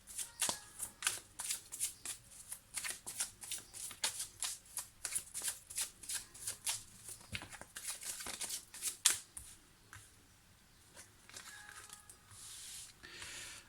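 Oracle cards are shuffled by hand for a reading, producing rapid, close, crisp riffling flutters in a quick rhythmic run that pauses briefly and then starts again more softly.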